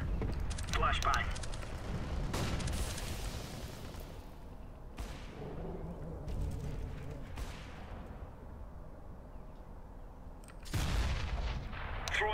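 A Counter-Strike match thunders with repeated grenade and flashbang blasts, heavy booms spaced several seconds apart amid continuous gunfire and game noise, close and loud, with voice callouts over the action.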